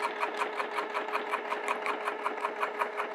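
A sewing machine stitches TPU vinyl using a Teflon foot at a 3 stitch length, a fast steady mechanical whirring with even rhythmic beats, close and alone.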